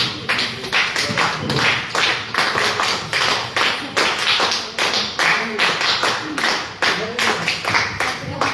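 Group of people clapping at a gathering in Giridih, steady overlapping applause with dense hand claps throughout, near and fairly loud, with some voices talking underneath.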